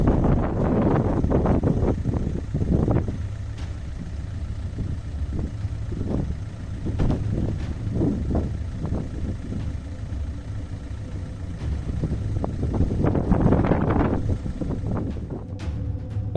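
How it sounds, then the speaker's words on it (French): Rough, blustery storm wind with gusts reaching 110 km/h buffets the microphone in surging gusts, rising and falling in loudness with a low rumbling roar throughout. "les rafales de vent qui atteignaient parfois 110 km/h"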